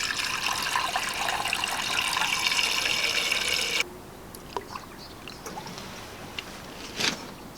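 Water streams steadily into a car radiator, then cuts off abruptly, leaving a quiet room with a few faint knocks and clinks.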